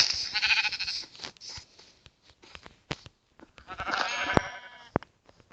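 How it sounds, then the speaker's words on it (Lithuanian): Sheep in the Minecraft video game bleat in two short bursts, one at the start and another a few seconds later, fairly close and clear, with quiet game clicks in between. "O, kaip tik avis."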